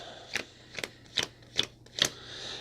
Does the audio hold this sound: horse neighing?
no